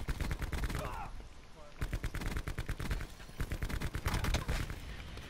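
A KN rifle fires in Black Ops 4 co-op, quick bursts of rapid gunshots in dense clusters with short pauses between them, steady and fairly close in the game mix.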